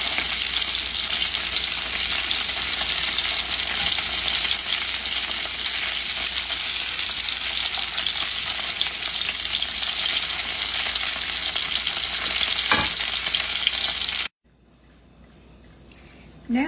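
Steak fingers fry in hot grease with a loud, steady, dense sizzle that holds for about fourteen seconds, then cuts off abruptly, leaving near silence and a faint rustle at the end.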